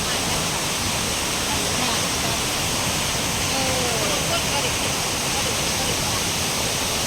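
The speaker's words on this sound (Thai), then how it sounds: "มองดูน้ำตก" Steady, full roar of Huai Luang waterfall in Nam Yuen, Ubon Ratchathani, Thailand, broadband rushing water filling the whole clip without letup.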